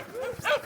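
A sled dog gives a brief, close whine rising into a short yelp, a single quick outburst over faint background noise.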